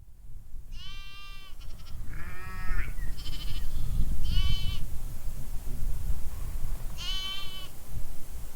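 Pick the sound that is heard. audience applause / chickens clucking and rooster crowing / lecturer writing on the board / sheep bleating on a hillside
sheep bleating on a hillside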